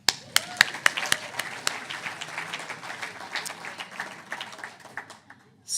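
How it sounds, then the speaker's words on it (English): A small audience at a talk event breaks into applause, starting with a few sharp, separate claps that quickly build into a scattered, moderate round before tapering off. "give yourselves a big round of applause"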